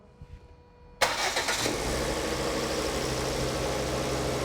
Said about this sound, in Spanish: Ahí ya el motor está funcionando. Estamos al ralentí.